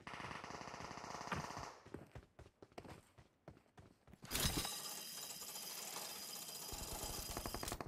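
Video game gunfire, rapid automatic bursts and single shots, loud and close, breaking off briefly before a dense, sustained stretch of firing; no clear talk over it.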